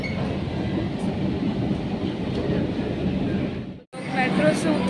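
A metro train runs with a steady loud rumble and rattle of wheels on track, dropping out briefly near the end before resuming.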